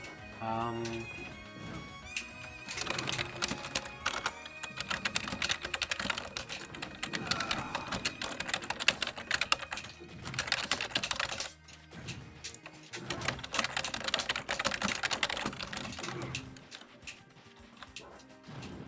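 Rapid clattering keystrokes on a computer keyboard continue under talk, with game sounds and voices overlapping throughout during a Super Smash Bros. coaching session.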